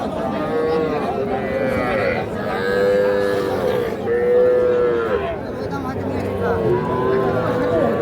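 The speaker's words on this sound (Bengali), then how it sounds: "এগুলো ষাঁড় বাচ্চা" Young bull calves at Ambari cattle market, mooing repeatedly in long, loud drawn-out calls close by, over a background of market crowd chatter.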